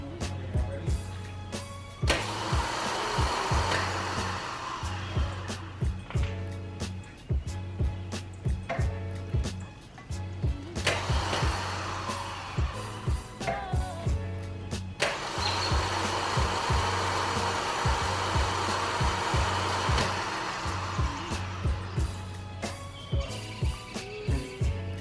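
A Mercedes 190E 2.3 that sat for more than five years cranks over repeatedly with a starter, in three long rhythmic chugging bursts separated by short pauses, loud and close.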